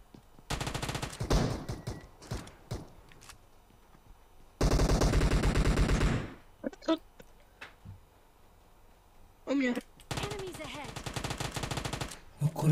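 Automatic rifle bursts in the mobile battle royale game PUBG Mobile, several loud rapid-fire volleys separated by short pauses, with players talking over the gaps.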